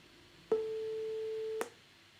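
Single electronic tone generated by code, a steady pure beep starting with a click and lasting about a second before cutting off, alone over faint background hiss.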